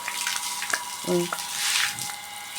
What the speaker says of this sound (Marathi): आता काका पाणी मारतात